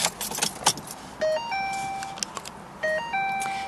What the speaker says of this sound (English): Let's go ahead and grab our key.